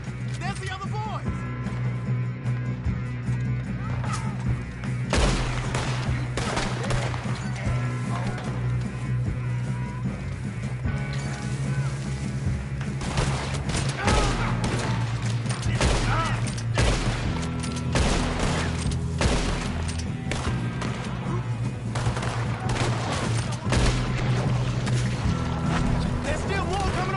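Gunfire rattles through a Red Dead Redemption 2 shootout, sustained volleys of shots piling up over a dense, loud game soundtrack and ambient noise for the whole stretch, with voices speaking amid the action.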